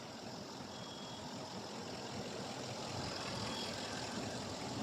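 A Range Rover naturally aspirated engine that has been overheating runs at a steady idle, a continuous low rumble with broad noise that holds evenly throughout, close by, with no voices.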